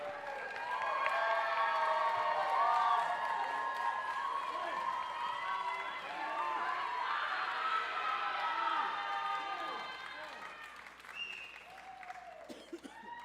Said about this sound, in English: Let's give another round of applause to all of our teams tonight.